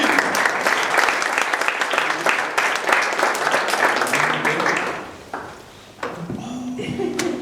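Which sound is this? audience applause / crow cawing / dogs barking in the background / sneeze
audience applause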